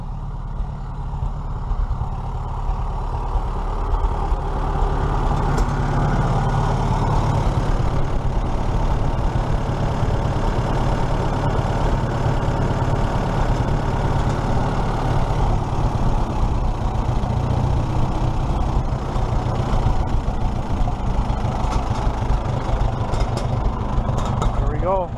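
Seven farm tractors idle together in a hay-cutting yard, a dense, steady low diesel rumble that stays constant and close throughout, with people talking over it.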